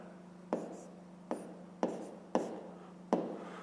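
A pen writes a fraction on paper during a fifth-grade maths lesson, producing five distinct close scratchy strokes at fairly even intervals over a steady low hum, with no talk.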